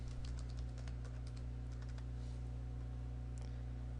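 Password typed on a computer keyboard while setting up IBM Security Access Manager; a quick burst of key clicks, then a pause and a few more keystrokes, close and clear over steady low electrical hum.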